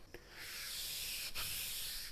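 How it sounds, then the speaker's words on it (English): A Scotch-Brite pad on a sanding block rubs along the grain of a cast iron table saw surface, giving a steady, close, hissing scrub that carries on for a couple of seconds, with one short break partway through. "I'll grab my Scotch-Brite and my sanding block, and we'll follow the grain pattern of the cast iron"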